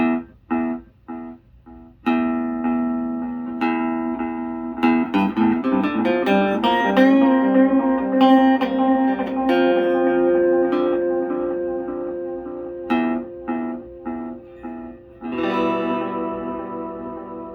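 Electric guitar notes ring out through a reverb pedal, each chord trailing into a long wash of echo, with staccato hits near the start and end.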